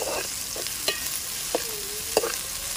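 Ginger garlic paste sizzles in hot oil for an Andhra-style raw banana curry, a steady close frying hiss broken by several sharp stirring scrapes against the pan.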